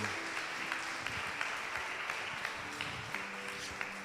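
A crowd applauds continuously, many hands clapping in a steady, even wash with no voices over it.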